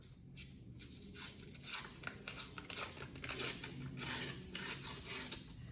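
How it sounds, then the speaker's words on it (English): Paper label being peeled from a refrigerated biscuit can, a close, soft rasping tear with rubbing and scraping bursts coming in uneven strokes, quiet and with no talking. "This is where you peel off the paper."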